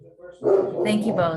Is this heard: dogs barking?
yes